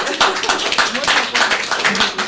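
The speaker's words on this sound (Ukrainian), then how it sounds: "думаю, аплодисменти" Audience applause at a Ukrainian televised ceremony, a steady patter of many hands clapping at close range, filling the short moment without speech.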